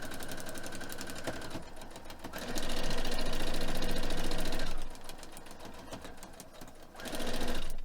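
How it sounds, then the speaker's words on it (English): A sewing machine stitches fabric for foundation paper piecing, a loud steady mechanical whirr running in two long bursts with a pause between, then starting again near the end, nearby and without talk. "We can do a 1/4 inch all the way out there and sew this all the way down."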